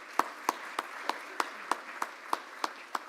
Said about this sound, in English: let's have a round of applause for Case Anderson for getting it done